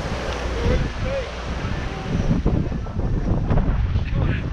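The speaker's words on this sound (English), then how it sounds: "the wind is kind of really wishy-washy right now" Strong gusty wind buffets the microphone at a beach during kiteboarding, a loud continuous roar with surf mixed underneath and people talking over it.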